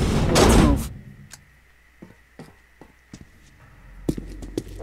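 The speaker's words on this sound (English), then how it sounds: "The doors are closing." Doors close in the video game Metro Last Light: a loud heavy slam opens the sequence, then scattered clanks and knocks follow over a low mechanical hum.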